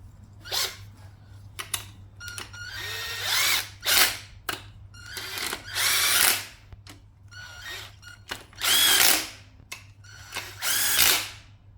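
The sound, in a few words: power tool tightening an engine bolt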